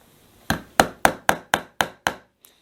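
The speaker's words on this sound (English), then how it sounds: "traditional track pin, very simple, you hit it with a hammer" A hammer drives a steel track pin into model railway track, giving seven sharp, evenly spaced metallic taps close up, then one faint final tap, with no talking.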